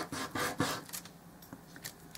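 Sandpaper or an emery board rubs across the layered body of a dollhouse miniature microwave oven, giving soft repeated scratchy strokes that sit close and fairly quiet.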